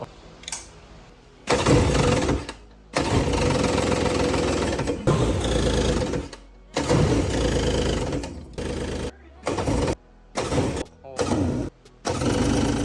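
A 1999 Yamaha jet boat engine cranks and sputters in repeated bursts, turning over loudly with brief silences between attempts, never settling into a steady idle.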